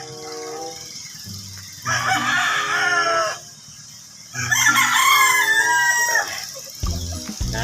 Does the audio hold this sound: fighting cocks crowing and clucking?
yes